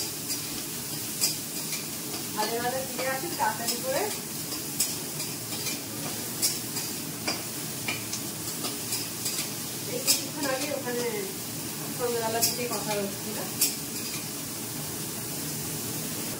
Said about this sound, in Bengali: আর পটলটা ভাজা হচ্ছে হোক